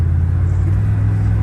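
Engine of a 1994 GMC Sierra OBS pickup heard from inside while driving, a loud, steady low drone and rumble with no speech over it.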